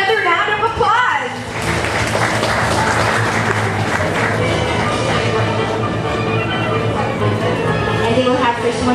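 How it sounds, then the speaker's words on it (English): Applause from an evening awards-ceremony audience honoring an entertainment and environmental awardee, dense and sustained for most of the stretch after a brief opening with harmonic, voice-like sound, steady and fairly loud throughout. "let's give her another round of applause"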